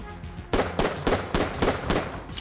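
Gunfire from the video game Enter the Gungeon: a rapid series of about six sharp, loud shots roughly every quarter second over a busy game soundtrack, with no talking.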